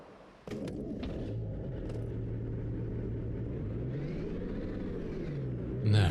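A truck with a 6-cylinder engine runs in Farming Simulator 25, starting abruptly and settling into a steady close rumble with a slight rise in revs near the end, with no talking.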